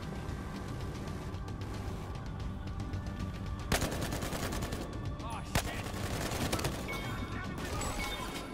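Battlefield Hardline multiplayer gunfire: dense, continuous bursts of automatic and single shots at close and middle range, with a couple of sharp loud cracks standing out amid the clatter.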